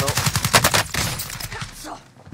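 Rapid gunfire in a shooting video game rattles in dense bursts for about a second and a half, loud and close, then thins out to scattered shots as a player talks over the action.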